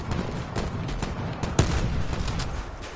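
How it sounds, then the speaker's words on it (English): A single sharp sniper rifle shot rings out in the Black Ops 4 multiplayer shooter, a loud crack standing out over steady battle noise. "Oh, I don't like these sniper rifles"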